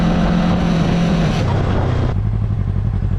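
A 2025 Yamaha R3 motorcycle accelerating hard and upshifting with a quick shifter, its engine note loud and close, with a brief break at each clutchless shift before the revs settle lower.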